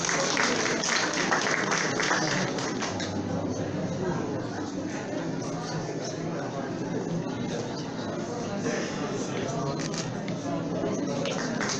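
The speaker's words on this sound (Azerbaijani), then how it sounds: "Alqışlar." An audience at an award ceremony for charity work applauds continuously in dense, steady clapping, with crowd chatter and some speech mixed in beneath it.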